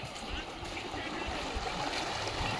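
Water rushes steadily out through a drainage channel built with 10-inch brick masonry beside a pond, a continuous broadband flow with low rumbling underneath and voices talking over it.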